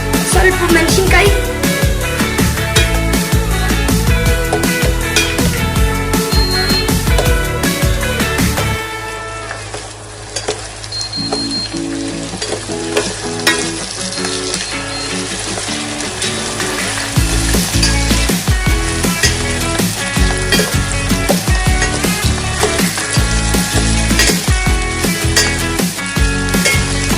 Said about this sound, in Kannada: ಈಗ ಇದು ಫ್ರೈ ಆಗಿದೆ.